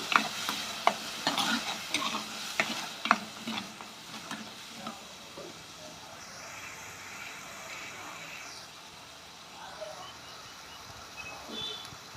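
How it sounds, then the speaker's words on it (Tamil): Thick ground onion and garlic paste stirred in a pan over a low flame, with scraping spoon strokes and clicks loudest early on, then a soft faint sizzle continuing alone. "அடுப்பை சிம்மில் வச்சு கிண்டி விட்டுக்கோங்க இல்லைன்னா கருகிடும்"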